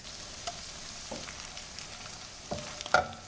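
Calabrian chili pepper paste sizzles quietly in a pan alongside heavy cream for a pasta sauce, a soft steady frying hiss broken by a few light stirring scrapes and clinks.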